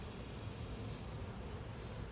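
Honeybees buzz outdoors around an apiary, a steady, even drone of many insects with a thin high hiss above it, unbroken and moderately faint.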